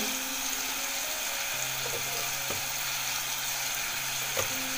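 Chilli masala, turmeric, garam masala and salt being stirred and sautéed in a hot pan, giving a steady, fairly quiet sizzle with occasional scraping taps of a utensil.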